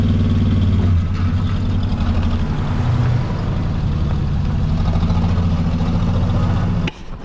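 A 1963 Plymouth Belvedere, driven for the first time since 1978, runs steadily with a loud, close, low engine rumble that holds even throughout and then drops off abruptly near the end.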